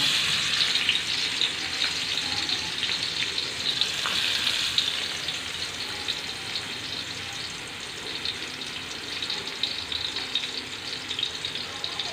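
Onion and garlic sauté in cooking oil in a pan for spaghetti sauce, giving a steady, fairly close sizzle and crackle that runs on its own throughout, with a faint watery hiss and no talk.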